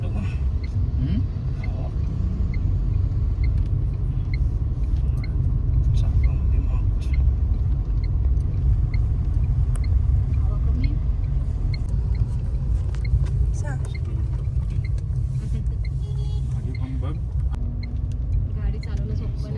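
A car driven on a road in the rain, its steady engine rumble and road noise running loud and continuous throughout, with people talking inside the car.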